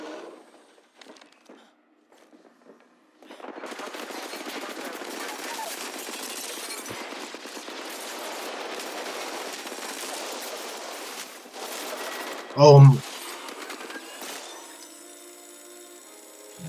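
Sustained rapid machine-gun fire from a mounted minigun in a shooter video game, a steady roar lasting several seconds with a brief louder burst near the end.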